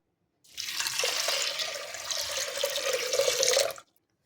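Water pours steadily into a metal pressure cooker for about three seconds, a close, even rushing splash with a faint rising fill tone, no voices.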